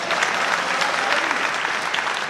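Audience clapping after a Hindi poem recitation by a solo poet at a kavi sammelan, a steady dense wash of many hands, fairly close and continuous throughout with no talk over it.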